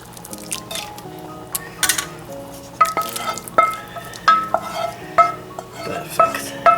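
Onion, flour and garlic go into a pot of Ukrainian borscht soup, making wet plops and stirring splashes, close and moderately loud, repeating in an uneven rhythm.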